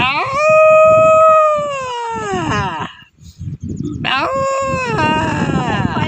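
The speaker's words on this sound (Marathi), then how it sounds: "कुत्रे आले त्या भैयाचं इकडे" Dogs on a family farm field howl loudly and close by, two long wavering howls separated by a short, quieter gap with rustling.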